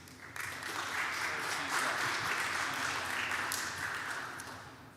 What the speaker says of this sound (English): let's make him feel very welcome with a nice round of applause